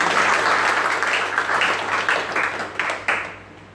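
A church congregation claps during a sermon, dense and lively at first, then thinning into scattered claps that fade out toward the end.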